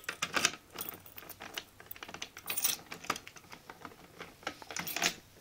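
Metal keys jangle and clink in irregular bursts as a copy key is worked in and out of a fire alarm pull station lock, close and fairly sharp, with no talking.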